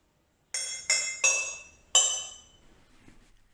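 Glass water bottles filled with coloured water are tapped like a xylophone, four bright clinking strikes in quick succession with ringing decay, fairly quiet and close, no voices.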